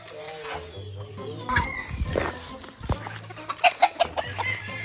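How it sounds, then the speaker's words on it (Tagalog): Chickens cluck and call close by, a run of short rhythmic clucks building toward the end, with scattered handling noise and no speech. "Kaya magpainom sa manok."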